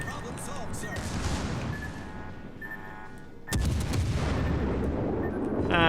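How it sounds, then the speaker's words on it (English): Secondary guns on a warship fire in the World of Warships naval battle game, a mix of repeated booms and cracks over steady engine and water rumble, with a heavier blast midway and sharp reports near the end. "Secondaries engaged."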